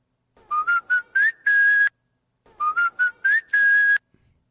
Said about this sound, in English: The whistle, McDonald's whistle, I remember.